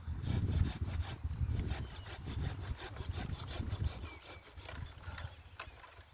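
A hand saw cuts through a Bramley apple tree branch during pruning, making rhythmic rasping back-and-forth strokes close by, moderately quiet in an outdoor setting.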